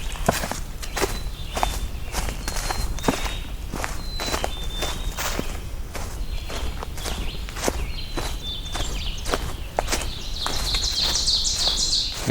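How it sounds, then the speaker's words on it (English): Chickadees singing outdoors in woodland, repeated thin whistled notes at moderate distance, over steady rustling footsteps on the trail. "We've got some loud chickadees now."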